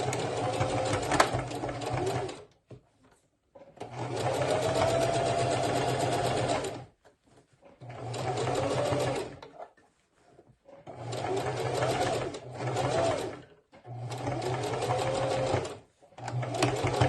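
A sewing machine stitches face mask fabric in several loud whirring bursts of a few seconds each, separated by short pauses.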